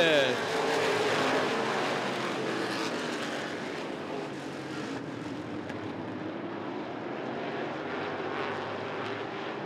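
Race cars roar off on a green-flag restart, a loud, dense engine drone that swells at the start and holds steady while a commentator talks over it.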